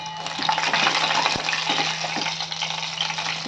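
Pressed garlic and dried red chillies frying in hot oil, a close, loud crackling sizzle with a few stirring clinks and one sharp knock against the pan, no voices.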